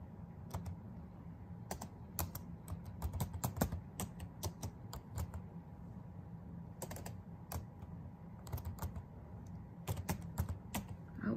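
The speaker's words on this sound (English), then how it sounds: "I'm typing all the info about us here." Computer keyboard is typed on steadily at close range, a quiet run of soft clicking keystrokes in uneven bursts over a low background hum.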